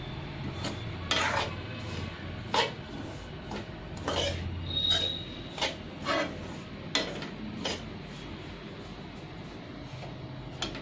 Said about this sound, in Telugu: కొబ్బరి వేసి మళ్ళీ ఒకసారి వేయించుకుంటున్నా